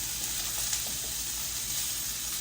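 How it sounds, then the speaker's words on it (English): A steady, bright sizzle of food frying in a hot pan right after it is flipped in, continuous and close with no talking. "My pan is nice and hot, so I'm just going to take them and flip them right in there like that."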